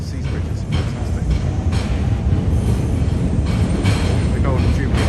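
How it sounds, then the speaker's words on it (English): Trains roll in and out of Charing Cross station in London, a loud continuous rumble of wheels on rails with scattered squeals and clanks, close by and steady throughout. "So those are trains coming in and out of Charing Cross station."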